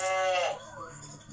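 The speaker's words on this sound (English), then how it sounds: "Cow." A short farm-animal call, likely a cow moo, sounds up close and fairly loud for about half a second, then quickly fades into quiet background.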